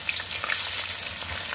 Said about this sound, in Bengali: এই যে কড়াইতে তেল আগেই নিয়ে নিয়েছি, এই যে দিয়ে দিব এখন ভাজার জন্য মাছ।